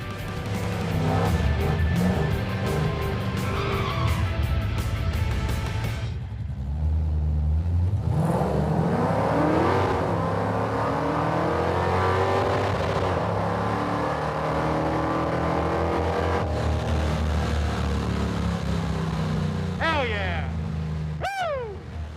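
A half-finished budget Chevrolet Monte Carlo drag car roars down the strip, its loud engine revving and climbing through the gears for a long, sustained run, with a brief pause between pulls and a tire chirp near the end.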